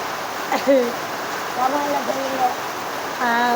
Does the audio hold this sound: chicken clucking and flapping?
no